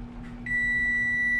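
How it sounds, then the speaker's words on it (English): Kitchen timer going off while fish cooks, a single sustained high electronic beep starting abruptly and holding steady over a low background hum. "We're about ready for that timer to go off."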